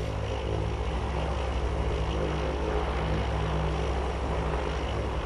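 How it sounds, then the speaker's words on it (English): A propeller plane drones steadily overhead in the Farming Simulator 22 video game, a continuous engine hum with low rumble that stays constant throughout, with no talking. "I can hear that plane again."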